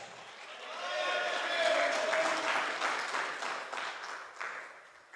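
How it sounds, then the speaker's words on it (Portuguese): A church congregation breaks into sustained applause during a sermon, a dense wash of clapping that swells and then tapers off, with voices mixed in. "Aplaude a Deus."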